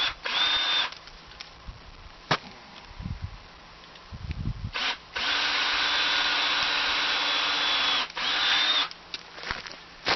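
A power drill whirs in several bursts into a tree trunk, with short gaps and scraping bits in between, close and loud.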